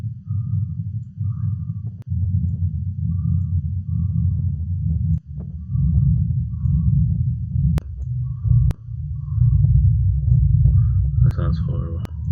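Synthesized techno rumble bass with reverb, a deep low drone pulsing in a steady rhythm with short breaks, a faint tail and a few brief clicks, played alone without talk.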